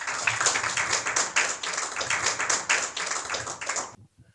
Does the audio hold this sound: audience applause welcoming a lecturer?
yes